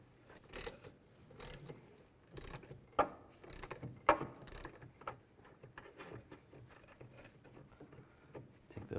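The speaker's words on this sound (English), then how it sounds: "I'm going to remove these two 18mm bolts on the back side. Just use an 18mm socket." Ratchet and socket clicks as an 18mm socket breaks loose and backs out the rear brake caliper bolts on a 2003-2007 Cadillac CTS, bursts of mechanical ratcheting with a couple of sharper knocks, close and moderately loud.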